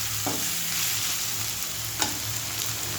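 Potatoes and mixed vegetables fry in a pan, producing a steady, close sizzle with a couple of brief utensil scrapes against the pan.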